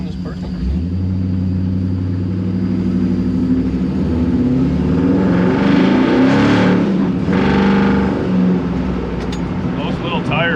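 A 1957 Chevy hot rod, a NASCAR-inspired car back on the road after sitting for years, rumbles as its engine builds revs while driving in winter, with a loud steady drone that swells and eases and voices in the car.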